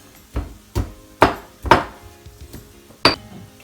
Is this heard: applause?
no